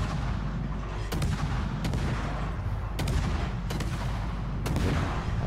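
Heavy naval guns boom repeatedly in World of Warships, five or so sharp salvos spaced about a second apart over a constant low engine and sea rumble, loud and close.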